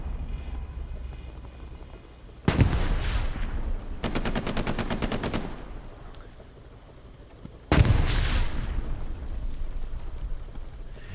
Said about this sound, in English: Another rocket